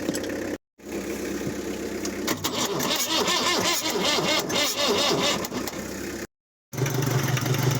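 An Iveco 35-8 2.4-litre diesel engine, dormant for six years, starts up and runs at a rough, loud idle, nearby and continuous apart from two brief dropouts.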